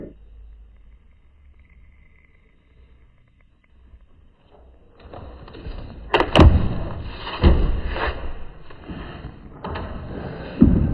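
A door opening in a crowdsourced Jurassic Park restaging: a quiet stretch, then rattling, knocks and a few heavy thuds, close and fairly loud.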